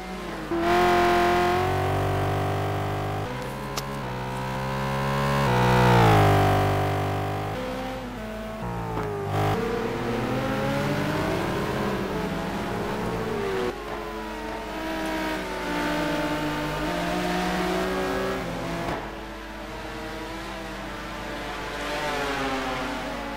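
Several race cars, a BMW M3 among them, in a simGT racing game at the Aldo Scribante circuit, with engine tones rising and falling through shifts and revs, loud and continuous, with no talking.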